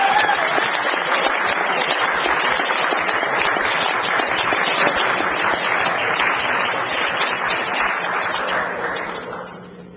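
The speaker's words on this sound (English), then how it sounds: "A round of applause for a special person." Sustained applause from an audience in a city council chamber, steady and full for about nine seconds before tapering off at the end, with no talking over it.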